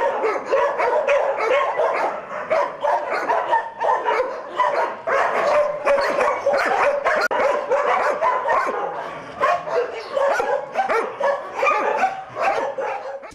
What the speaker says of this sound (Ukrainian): 600 собак змагалися у Хмельницькому за кращого представника породи